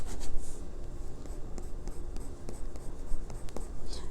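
A chunk of graphite rubs and scratches across paper in quick, uneven strokes, close and fairly loud, a continuous dry scraping with brief pauses between passes.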